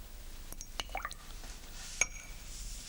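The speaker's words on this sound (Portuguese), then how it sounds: "Mexa a água do copo com o pincel." A paintbrush stirs water in a glass cup while painting, giving faint, close clinks and small drip-like taps against the glass, spaced irregularly in a quiet room.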